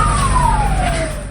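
A fire engine siren wails close and loud in a brief stretch, one long slowly falling tone over heavy low vehicle rumble, with no voices.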